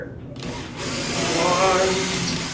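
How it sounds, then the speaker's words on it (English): A power drill bores two small holes for a curtain installation, the motor whirring up and holding a steady rising whine over about two seconds, close and moderately loud, with a voice speaking around it. "I'm going to drill two little holes here"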